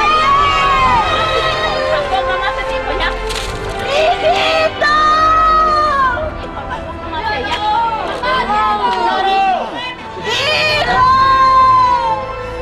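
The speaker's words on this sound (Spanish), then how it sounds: "Los gritos de desesperación." Crowds of people scream and shout in desperation during a nationwide night earthquake drill in Chancay, Peru, overlapping loud cries and yells rising and falling throughout.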